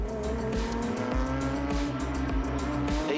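Porsche Carrera Cup Asia race cars battle side by side on the Zhuzhou circuit, their engines roaring loudly and continuously with steady high-pitched drone and rhythmic gear-shift pulses, no talk.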